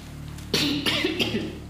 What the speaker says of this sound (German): das war zwar ein bisschen mehr Husten